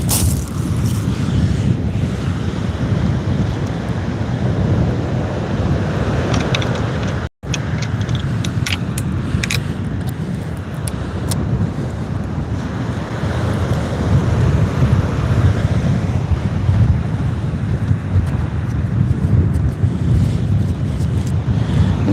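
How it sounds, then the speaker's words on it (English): Strong wind buffets the microphone on a beach during a sea fishing kayak trip, with waves and surf rolling in underneath as a loud, continuous roar that barely lets up. "That wind's picking right up."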